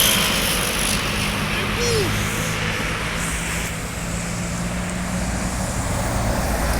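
A Sumatran intercity bus of the Limbersa line passing a roadside spot at the Simpang Macan Lindungan junction, its engine a steady low rumble under continuous traffic noise with a brief horn-like tone, while people talk nearby.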